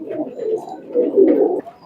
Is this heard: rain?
no